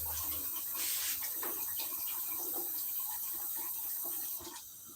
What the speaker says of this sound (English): if the water is not enough, I'm going to add more water to the sauce